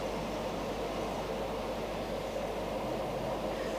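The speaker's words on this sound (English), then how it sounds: "the whiz of the trains" Singapore MRT train rushing past on elevated tracks, a steady broadband whoosh and rumble holding at constant loudness throughout, with no voices.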